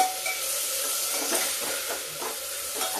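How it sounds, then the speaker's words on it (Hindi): Mung dal with carrot and onion roasting in a pan, giving a steady close hiss of sizzling with soft scraping as the mixture is stirred, and no voices. "और इसको मूंग को भी इसी समय डाल के थोड़ा भूनते हैं।"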